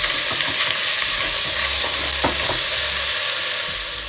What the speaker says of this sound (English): Then we have to saute the rice very gently.